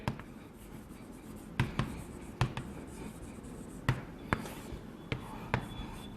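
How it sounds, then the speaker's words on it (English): Chalk or marker strokes on a classroom board during an eye anatomy lesson, a series of short taps and scratchy marks spaced irregularly over steady room noise, fairly close. "I'll write it for you."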